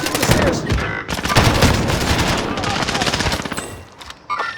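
Rapid machine-gun bursts and gunshots in a video game, loud and close, coming in quick volleys with brief gaps over busy game sound and some talking.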